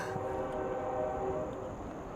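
A train rumbles past at a distance with a low, continuous roar, while a faint sustained horn-like tone hangs over it, steady throughout the short stretch.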